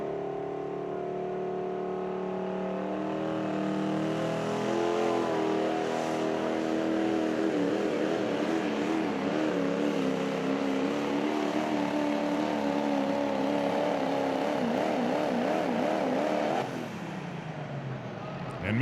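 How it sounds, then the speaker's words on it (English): A Chevy pro stock diesel pulling truck grunts down the track at a 2021 truck and tractor pull, its loud engine note climbing and wavering under heavy load for a long, sustained run before cutting off sharply near the end. "you could hear that Chevy just grunting all the way down through there"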